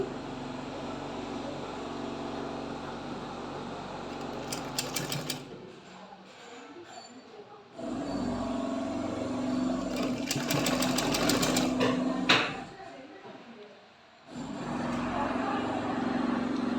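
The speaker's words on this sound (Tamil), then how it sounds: "இந்த ரவுண்டும் நம்ம இப்போ மடிச்சு அடிக்கணும்" A sewing machine stitches a folded hem on a jhabla in bursts of steady, fast motor whirring broken by brief pauses, close up and clear, with faint talk in the background.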